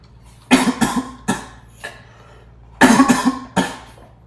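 Several harsh coughs from a boy with a sore throat, close and loud, arriving in two bursts of three or four coughs each, separated by a short quiet gap, with a fainter single cough in between.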